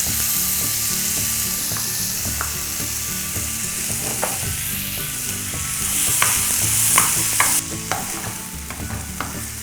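Chopped onions and tomatoes for tomato bath fry in a pan, a loud, close sizzle with constant stirring and scraping of a ladle against the metal.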